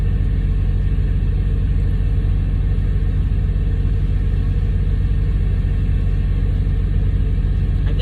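Steady low diesel rumble of a truck engine idling at a truck stop, constant and fairly close with no variation in rhythm.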